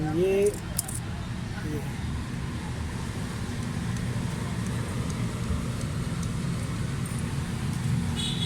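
A Baleno car engine with a tappet noise fault and a hunting idle runs close by in a steady, continuous drone, its RPM swinging up and down, with no clear break over the whole stretch.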